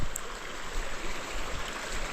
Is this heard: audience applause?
no